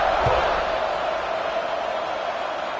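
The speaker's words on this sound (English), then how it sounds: "this crowd is buzzing after that last score." Stadium crowd buzzing in the college football video game NCAA 26, a steady broad roar of many voices that holds throughout, with a brief thud near the start and commentary underneath.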